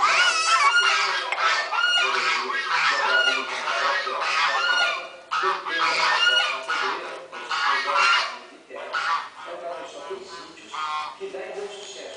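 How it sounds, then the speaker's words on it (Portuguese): Several geese honk repeatedly and loudly at close range, their calls overlapping in a busy chorus while people talk throughout. "Olha o ganso vindo ali, Bê, os gansos."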